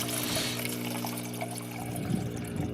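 Water poured from a container to rehydrate a Valley Food Storage freeze-dried chili, a steady close-up splashing pour running continuously for a few seconds, with no talk over it.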